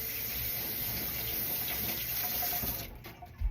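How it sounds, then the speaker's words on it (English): A kitchen faucet runs with a steady hissing stream while a hand is rinsed beneath it, then the flow cuts off, leaving a brief clunk; there is no speech. "now I gotta rinse my hand a little bit"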